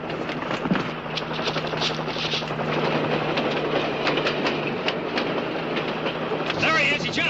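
A train runs along the tracks, with a steady rumbling roar and rhythmic clickety-clack of wheels over rail joints, loud and continuous throughout.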